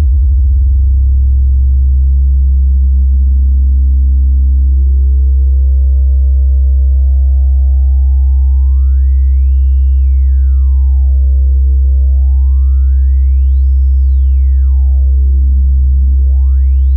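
An LFO in Reaktor Blocks drives fast frequency modulation of a sine oscillator, a steady low drone overlaid by sweeping pitch that glides up high and dips back down in broad, accelerating arcs, loud and isolated with no voices.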